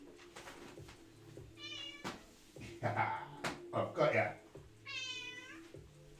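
A pet cat called Cowboy gives two clear, drawn-out meows close by, one early and one near the end, while someone talks warmly in between and around them indoors.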